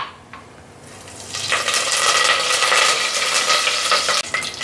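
Mustard seeds crackle and sizzle in hot oil in a pan while prawn thokku is being cooked, starting quietly and then swelling into a steady, dense frying hiss that fills most of the clip.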